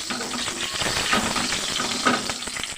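Whole spices (dried red chilli, bay leaf, small cardamoms, cinnamon and cloves) sputtering in hot oil while stirred, giving a brief, close crackling sizzle with a few soft scrapes.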